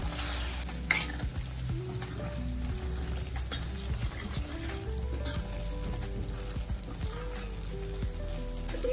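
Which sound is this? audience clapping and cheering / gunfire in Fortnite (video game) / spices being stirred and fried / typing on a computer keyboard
spices being stirred and fried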